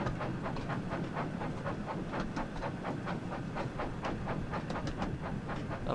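A Terrier steam locomotive in Train Sim World 5 chuffs along in a steady, rapid rhythm of exhaust beats over a continuous rumbling roll, heard up close and with no talking.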